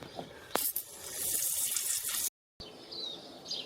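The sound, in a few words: spraying degreaser and washing oil off a BMW 318iS engine part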